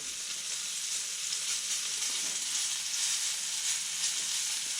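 Mackerel fillets fry in a pan, giving a continuous bright sizzle with a soft crackling texture that stays even throughout, with no talking.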